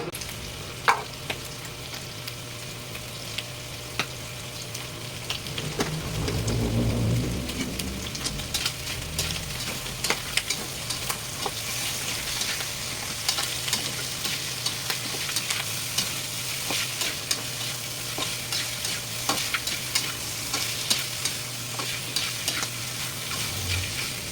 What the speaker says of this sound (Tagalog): Igigisa natin siya sa sarili niyang mantika.